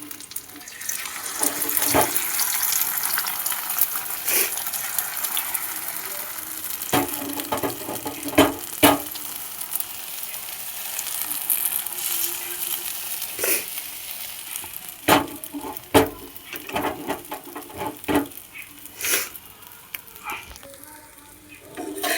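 An egg fries in hot oil in a saucepan, a loud sustained sizzle with bursts of spatter and scattered clattering knocks that grow more frequent toward the end.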